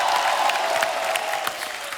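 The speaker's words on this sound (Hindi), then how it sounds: "जोरदार तालियां हो जाए।" Studio audience on a Hindi comedy talk show breaks into loud applause and some cheering, a dense burst of clapping with a tonal musical note running underneath for a couple of seconds.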